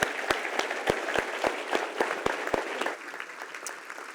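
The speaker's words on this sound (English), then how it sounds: "Can we get a round of applause for our candidates?" An audience at a mayoral candidates' forum breakfast applauds the candidates, with steady clapping and several sharp, prominent claps close by that thin out and soften toward the end.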